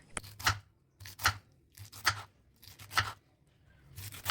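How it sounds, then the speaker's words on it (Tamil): Knife chopping cleaned pineapple into flat pieces on a board, five or six distinct crisp cuts in a steady rhythm, close and fairly loud with short quiet gaps between strokes. "இப்போ நீங்கள் க்ளீன் பண்ணி வச்சுருக்கிற பைனாப்பிளை ஃப்ளாட் பீசஸாக கட் பண்ணி எடுத்துக்கோங்க."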